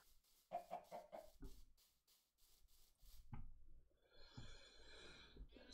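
Chickens cluck softly in the Minecraft video game, with a few short clucks early on and then scraping, rubbing game sounds.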